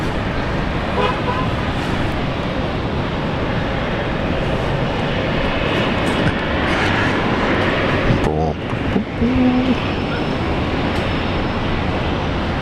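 A Jetstar jet departing Brisbane Airport, a broad steady roar from the engines filling the scene at a distance, with a brief horn-like toot partway through and people chatting nearby.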